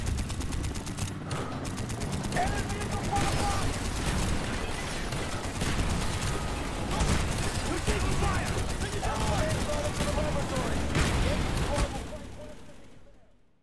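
Sustained, dense bursts of rapid gunfire from a gun that overheats after a few seconds of use in Call of Duty: Black Ops, loud and continuous for most of the stretch before cutting off and fading at the end.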